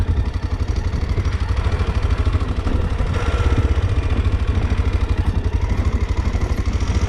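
A warmed-up motorcycle engine labouring uphill, a close, loud, steady rhythmic thrum with mechanical clatter that holds constant throughout, no voices.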